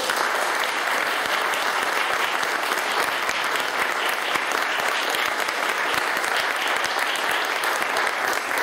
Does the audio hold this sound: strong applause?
yes